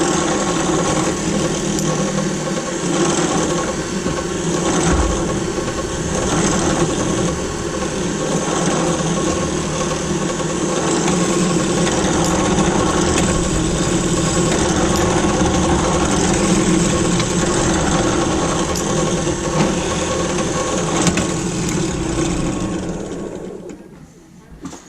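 A drill runs steadily while boring a pin hole in knife handle scales during knife making, a loud continuous motor whine lasting about 24 seconds and then winding down at the end, with no talking.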